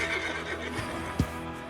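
Horse neighing in the Western roleplay video game Redwest Roleplay, a single whinny with a sharp burst near the end, heard over soft ambient background with light hoof-like movement.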